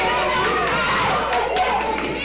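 A crowd at an AWS wrestling event cheers and shouts in a continuous, noisy roar that fills the arena, with scattered louder yells and thumps.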